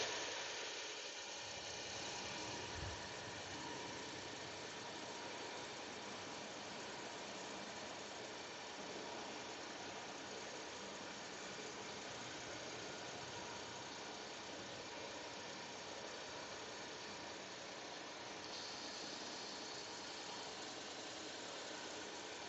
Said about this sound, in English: And now the four-wheelers are starting to pass.